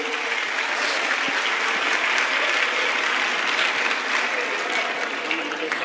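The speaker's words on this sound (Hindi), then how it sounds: "जोरदार तालियों से स्वागत करेंगे" Loud, steady applause from a large audience at a Sanatan religious gathering, welcoming a guest editor onto the stage, dense clapping that continues throughout.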